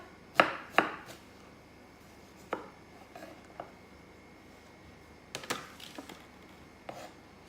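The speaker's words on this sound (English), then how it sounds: "Now I'm going to do some sliced up strawberries as a layer." A knife slices strawberries on a cutting board, producing a few sharp, irregular cuts with quiet pauses between them, close and fairly soft.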